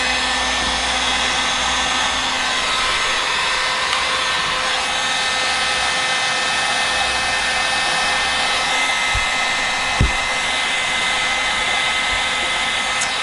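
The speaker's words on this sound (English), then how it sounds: "Let's see what the heat gun does." A heat gun roars continuously against a Made in Japan Foto Flame Stratocaster guitar body, a loud, close, steady airy drone with one brief knock near the end.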